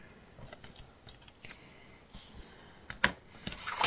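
Scissors snip through paper in short, crisp cuts, several scattered snips followed by a denser burst of cutting near the end, close and fairly clear with no talking.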